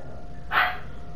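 A single sharp dog bark, close and fairly loud, standing alone against quiet background hum.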